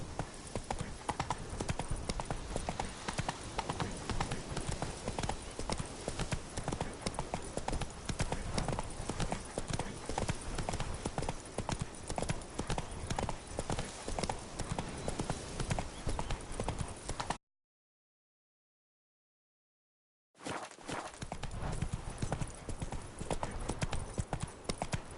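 Horse hooves clip-clopping in a steady rapid gait while riding in a video game, continuous and fairly faint, broken by a brief silent gap near the end.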